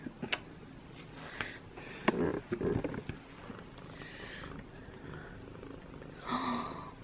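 A small domestic cat purrs softly and close by, a low steady rumble with a few quiet sniffs and light handling noises in a calm indoor room.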